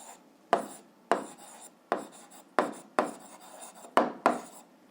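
A pen writes by hand on paper while working an algebra exercise, about eight short scratching strokes in a stop-start rhythm, close and clear against silence.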